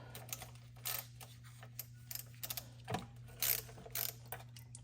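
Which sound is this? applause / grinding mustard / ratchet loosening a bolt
ratchet loosening a bolt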